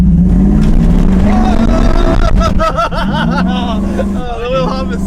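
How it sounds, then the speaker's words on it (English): A lifted pickup truck at the drag strip hops its rear wheels under hard launch, its engine roaring loud and close with repeated rising revs and chattering pulses, voices talking over it. "Oh, the wheel hop is so bad."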